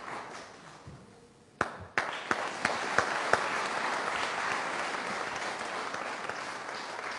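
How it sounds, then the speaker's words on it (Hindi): Audience applause welcoming a senior poet at a Holi kavi sammelan, starting with a few sharp claps and swelling quickly into loud, sustained clapping from a large crowd. "एक बार जोरदार तालियों से हमारे इस वरिष्ठ कवि का स्वागत करिएगा"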